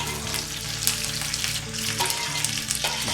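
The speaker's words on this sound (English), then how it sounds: "So you can already hear the oil going, and the Brussels sprouts are gonna soak up some of the oil anyway." Brussels sprouts frying in hot oil in a pan, giving a steady close sizzle and crackle with a faint background hum and no talking.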